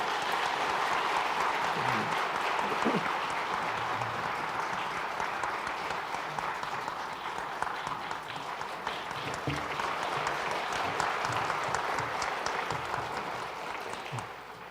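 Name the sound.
audience applause in church service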